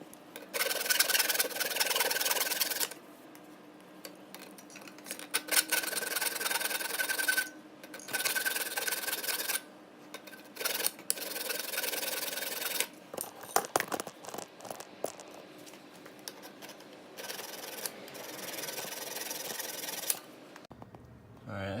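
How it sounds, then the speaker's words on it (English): A wire brush or file scrapes leftover welds off an SSR 125 pit bike exhaust in repeated rasping strokes, loud bursts broken by short pauses. "I'm probably gonna take a wire brush or a file and try to get the rest off"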